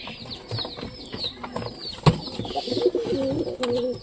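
Pigeons coo in low, repeated rolling calls amid a busy loft, with a sharp bump or flutter partway through and steady bird chatter around.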